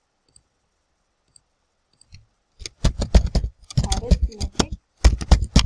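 Rapid bursts of typing on a computer keyboard, close and crisp, with a few isolated key clicks first, then dense clattering runs of keystrokes while someone speaks alongside.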